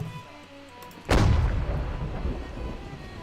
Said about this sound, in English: I'm going to get on this cannon. And we can start taking some pops at the Frenchies.